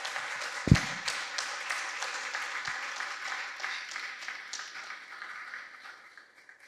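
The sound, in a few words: audience applause at a conference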